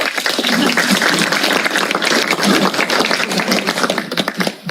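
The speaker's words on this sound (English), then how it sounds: "We'll clap." Attendees at a board meeting clap together in a steady, close round of applause lasting several seconds before tapering off.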